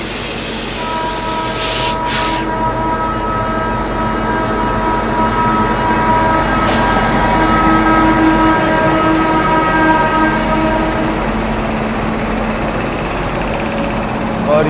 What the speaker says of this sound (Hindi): गुड्स ट्रेन जा रही है भाई सॉरी से।